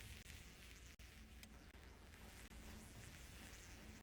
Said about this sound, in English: The only thing I hear is these nasty flies buzzing around in the game